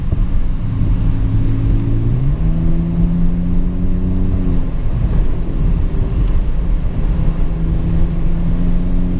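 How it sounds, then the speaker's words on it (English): A BMW E39 5 Series with a cat-back exhaust is revved through a few throttle blips, its loud engine note rising and settling in a steady, close drone with no talking. "You just need a cat back exhaust and a little throttle work."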